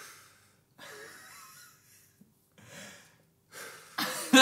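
A person's voice imitates odd, heavy breathing in a few separate breathy, wheezing bursts with short pauses between them, ending in a louder snorting gasp.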